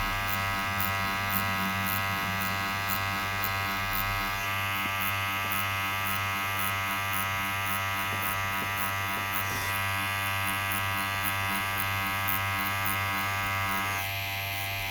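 Tattoo machine with a large needle shading skin, a constant close electric buzz with strong hum running unbroken throughout, its pitch shifting slightly partway.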